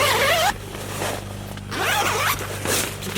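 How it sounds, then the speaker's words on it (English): A Coleman 4-person tent window is unzipped, one close, crisp zipper pull followed by softer fabric rustles and a second quick zip. "then you got your window there. You can just unzip that"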